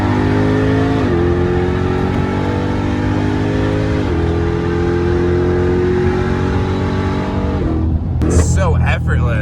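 A Jeep Trackhawk and a McLaren race hard at night, with strong engine revs climbing through several gear changes. A voice talks over the engines, and near the end a sudden burst of wind noise or a car passing cuts in.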